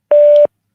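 A single steady electronic beep from a Google Voice call-in line, the tone played before a caller is connected. It lasts about a third of a second, loud and clean, with silence around it.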